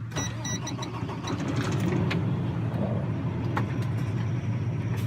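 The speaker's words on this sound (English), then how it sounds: "I guess I could fire up the truck, huh?" A truck engine turns over and settles into a steady low diesel rumble, with some clicks and mechanical clatter at the start, close and continuous, with no talking.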